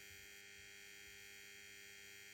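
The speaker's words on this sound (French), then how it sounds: "On entend le ballast qui ronronne vraiment bien." A Holophane lamp ballast gives a steady electrical hum with a constant pitch and faint buzzing overtones, holding at low level throughout with no other sounds.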